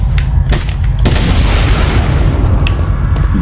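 A TNT blast in Resident Evil 4: a loud, close boom that rolls into a long, dense roar, with a few sharper cracks and pops before and after it.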